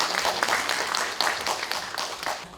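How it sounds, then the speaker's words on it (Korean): Audience applause at a general assembly meeting of the Munhyeon 1 district association, a steady crowd of hands clapping that fills the room and carries on without a break. "조합장님께 다시 한번 뜨거운 박수 부탁드립니다."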